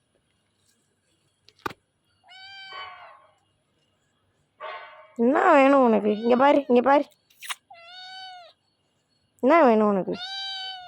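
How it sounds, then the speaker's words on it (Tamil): A pet cat being held meows several times, the cries spread out across the clip, some short and some drawn out. Someone speaks to it in Tamil between and over the meows. "தூக்குனா மட்டும் மியாவ் மியாவுன்ற"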